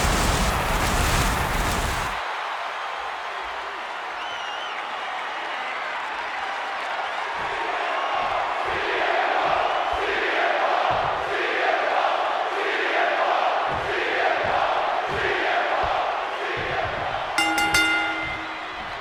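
A WWE 2K26 wrestling crowd cheers in a steady, broad roar throughout, loud and continuous with swells of excitement, and a brief burst of arena noise at the start.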